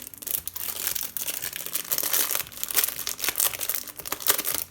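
Crisp plastic packaging crinkling and tearing as an AliExpress parcel is opened, a continuous close-up rustle with sharp crackling bursts and no talking.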